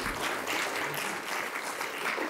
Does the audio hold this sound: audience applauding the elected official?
yes